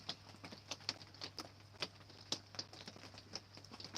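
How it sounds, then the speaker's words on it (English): Water drips from an overhanging tree onto the roof of a camper van on a rainy day, a faint, irregular patter of separate taps and light plinks over a steady low hum. "it's the tree dropping water onto the van"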